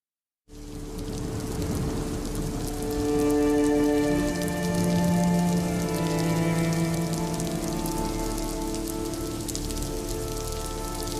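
Heavy rain pours down beside a road in Mankavu, Kozhikode, a dense, steady hiss that starts abruptly and keeps up loud and unbroken throughout.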